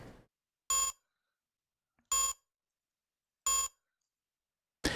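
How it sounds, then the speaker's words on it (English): Three evenly spaced, identical high-pitched electronic beeps from a flashing button in the Space Quest 2 adventure game, each short and clear against silence, with a fourth starting at the very end. "You do notice a button with a flashing light next to it. It seems to be emitting a high-pitched beep."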